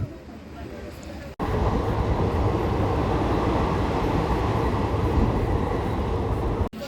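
The Pinakini Superfast Express rumbles along with a steady, loud roar from inside the moving train, broken by a couple of brief cuts.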